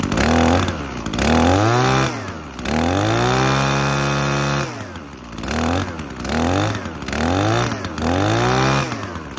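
An Echo SRM-3020U two-stroke brush cutter engine warms up near the mic, its pitch rising and falling in uneven revs between idle stretches, with brief cutouts.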